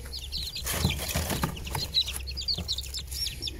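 Young chicks cheeping in a steady chorus of high, thin peeps, close and continuous over faint background rustling.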